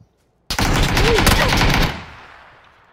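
Video game gunfire: one loud burst of rapid automatic shots rattles for about a second and a half, then fades into a short echoing tail.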